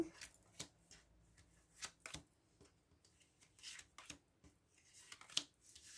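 Tarot cards shuffled and handled in short crisp bursts, close and fairly soft, with pauses between the riffles and card slaps.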